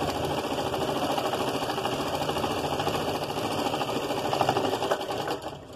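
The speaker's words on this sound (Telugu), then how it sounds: "మనం ఇలా పెట్టేసి ఒక పాదం మందం సన్నగా కుట్టేసుకోవాలి" A sewing machine runs steadily while stitching a thin, narrow seam on blouse fabric, its rapid mechanical whir close and continuous throughout, easing off only at the very end.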